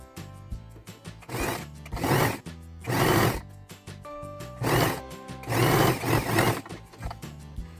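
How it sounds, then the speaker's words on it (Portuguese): A sewing machine sews a fabric strip onto the long side of a triangle for a baby bib with a pacifier holder, in several loud, close bursts of stitching separated by brief pauses. "e vou passar uma costura"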